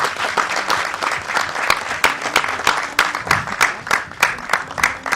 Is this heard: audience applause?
yes